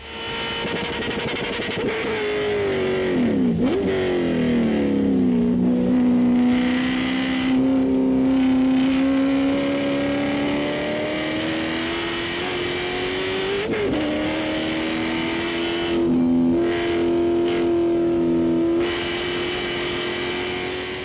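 Loud race car engine heard from onboard at Road Atlanta, revving high and shifting through gears with rising and falling pitch, steady roar throughout.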